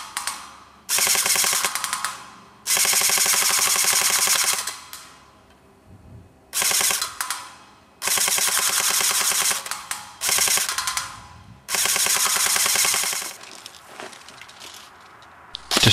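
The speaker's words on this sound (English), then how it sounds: "I'm holding down the trigger, you can hear the 2 second delay," Airsoft AEG fitted with a burst programming unit, its trigger held down for a two-second delay before full-auto fire. Several sustained rattling bursts of rapid shots, a few seconds each, separated by quiet gaps with faint motor whir, loud and close.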